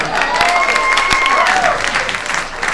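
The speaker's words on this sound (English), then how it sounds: "Wow, you guys clap for everything." A stand-up comedy audience claps in a sustained, dense burst of applause, with a few whistles cutting through the steady patter of hands.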